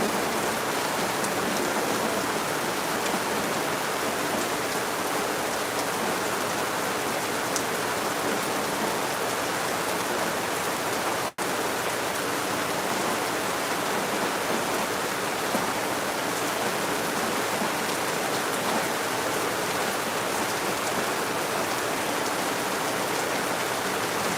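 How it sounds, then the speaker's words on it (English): A prolonged heavy downpour in Lagos gives an unbroken, full-bodied roar of rain, even and continuous with only a momentary dip midway, and no talking. "The rain is so heavy."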